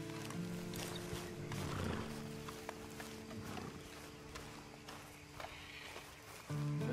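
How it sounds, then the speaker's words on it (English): A horse in the Western video game Red Dead Online snorts and whinnies amid clopping hooves and outdoor ambience, the animal sounds fairly close but moderate in level. "And you better get on this horse."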